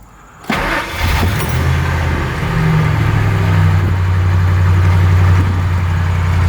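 A 1999 Ford F-150 truck engine starts and then idles in neutral, a steady low rumble that holds alone and close for several seconds.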